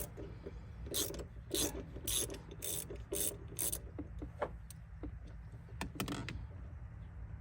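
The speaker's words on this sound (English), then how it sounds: "Allen socket, come down here, and you're going to break this loose without stripping it." A ratchet fitted with an Allen socket works a bolt loose, giving bursts of rapid clicking ratchet strokes with rasping metal-on-metal rubbing and a low steady hum underneath, close and fairly quiet.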